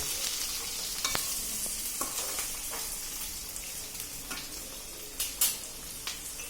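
Green chillies frying in oil in a pan for a chilli chutney: a continuous soft sizzle with intermittent scraping stirs and a few sharper utensil knocks near the end.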